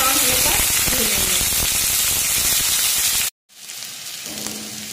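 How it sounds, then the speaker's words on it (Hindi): Sliced onions hit hot oil in a pan for chana dal tadka, giving a loud, dense, continuous sizzle. A brief cut leaves it quieter afterward, with a voice speaking over the frying. "अब इसमें हम प्याज को डाल देंगे। ऐसे हम गोल्डन ब्राउन होने पर भूनेंगे।"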